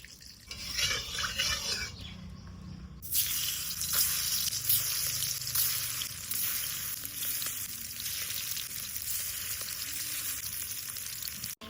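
Oil sizzles steadily in a wok with a bright, continuous crackle. No one speaks.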